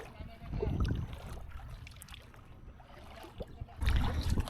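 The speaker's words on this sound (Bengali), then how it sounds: "এখন আপাতত নৌকাটা বাঁধি ঠিক মতো, পানিগুলা ফেলাই" On the Padma river a boat is tied up and water is bailed out of it, with close splashes and scoops of water in bursts at the start and end over soft water and wind noise.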